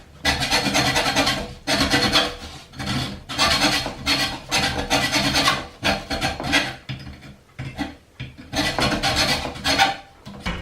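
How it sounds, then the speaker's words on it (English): A hand saw cuts through aluminum stock in long, harsh rasping strokes, loud and close, with short pauses between bursts of back-and-forth sawing. "I'm just cutting down the aluminum with this saw, this hand saw"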